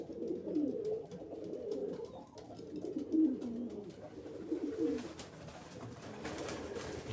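Pigeons in an aviary make soft, low, rolling coos that overlap and repeat steadily from close by, with faint rustling in the background.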